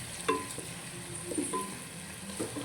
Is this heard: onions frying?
yes